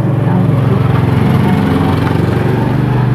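The high-voltage spark gap on a General welding machine buzzes loudly and steadily at close range, a harsh rapid rattling drone with the gap adjusted wider. It runs unbroken throughout with no pauses.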